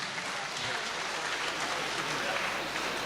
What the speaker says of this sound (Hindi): अब जोरदार तालियां बजाकर इस्तकबाल कीजिए